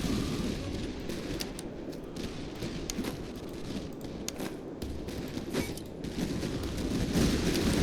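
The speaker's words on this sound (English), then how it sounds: "Artillery will continue to fire on the Grenadiers." Artillery fire in the Master of Command strategy game, a dense rumbling fusillade of booms and crackling shots rolling on without pause at moderate volume, alone.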